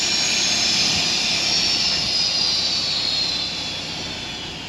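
Air escapes steadily from a Logiq AirIQ truck air-bag suspension as it deflates back to stock. It is a continuous loud hiss that fades slightly toward the end, with no talking.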